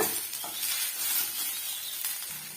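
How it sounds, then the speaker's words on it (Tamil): Curry leaves frying in a pan on medium heat, a steady, fairly quiet sizzle with faint clinks of stirring, continuous throughout. "சேர்த்துட்டு மீடியமான ஹீட்டில் வச்சு இது நல்லா வந்து வறுத்து விட்டுக்கலாங்க"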